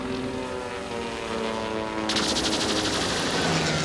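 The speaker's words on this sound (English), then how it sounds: "I'd say it's a sort of airplane." A propeller airplane in an animated adventure episode drones with a harmonic engine hum, then swells into a louder, buzzing roar as it passes close.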